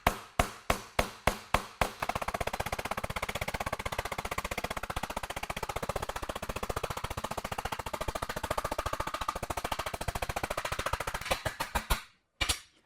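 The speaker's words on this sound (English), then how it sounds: "I'll tap the metal down until it flattens out against the top surface of this form." A hammer taps copper sheet flat against the top surface of a banjo rim form, starting with several spaced ringing blows, then breaking into a long, very rapid, loud drumroll of close metallic taps that stops abruptly.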